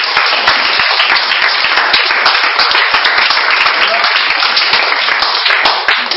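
A church congregation claps and applauds loudly and continuously, a dense wash of close hand claps with scattered voices mixed in.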